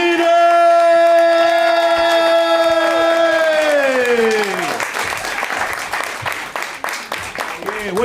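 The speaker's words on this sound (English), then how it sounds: "Start clapping up, start clapping up, start clapping up for Martin Amini!" At a stand-up comedy show in DC, an announcer's long, drawn-out call gives way to a burst of audience applause and cheering that fills the room and carries on strongly to the end.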